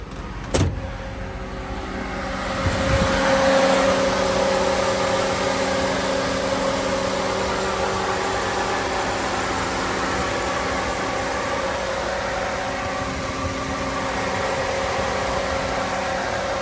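An LS engine idles steadily inside a Chevrolet C10 pickup truck, a constant hum with a faint whine, running on alongside the air conditioning with no talk.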